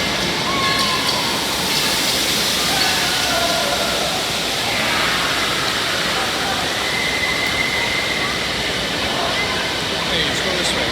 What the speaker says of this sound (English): This is the water park.